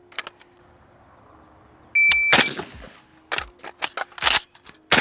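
A shot-timer beep is followed by a string of loud, close gunshots from a Pioneer Arms 556 Sporter AK rifle, fired on steel at 50 yards. The shots come in quick, uneven succession with sharp metallic cracks.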